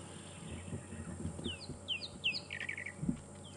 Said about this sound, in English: There's a few drongos I can hear in the distance.